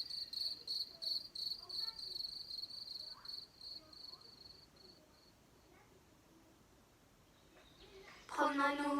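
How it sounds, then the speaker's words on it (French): Crickets chirp by rubbing their wings, a steady pulsing trill at moderate distance over a quiet outdoor background, fading midway, before a brief louder burst of sound near the end. "Un grillon, 2 grillons, 3 grillons."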